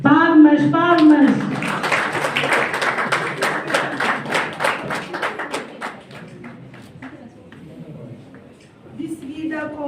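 A crowd at a journalism graduation diploma ceremony claps in a burst of rapid applause that builds, then thins out to scattered claps, with someone speaking over the start.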